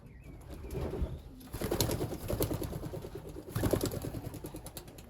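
Racing pigeons in a young-bird loft coo in soft, repeated rolling bursts, close by, with a faint wing flutter now and then.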